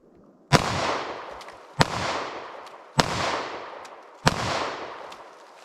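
Four loud gunshots from Federal Punch ammunition fired into a pumpkin, spaced about a second apart, each a sharp crack followed by a decaying outdoor echo.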